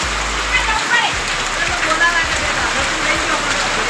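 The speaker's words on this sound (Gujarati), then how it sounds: "વરસાદ તો વધારે." Heavy rain falls in a dense, steady hiss with close drops pattering on a surface, continuous and loud throughout.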